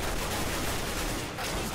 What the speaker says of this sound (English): They ran into an absolute hailstorm of gunfire.